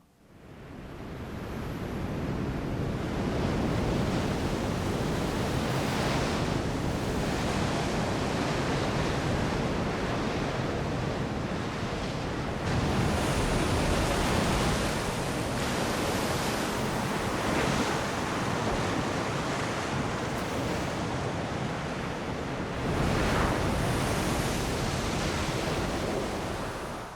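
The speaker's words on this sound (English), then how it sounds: "now that is definitely the sound of the sea," Loud, continuous roar of stormy sea waves crashing and surging, with gusting wind noise blowing across the microphone throughout.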